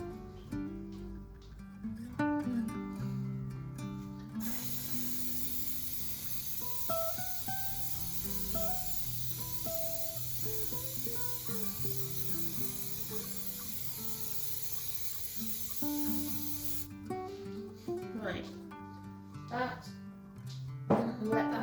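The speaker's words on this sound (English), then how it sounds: "then we'll get our next coat of fixative on" An aerosol can sprays fixative onto a pastel painting in one long, steady hiss lasting about twelve seconds, close by, with soft background music before and after.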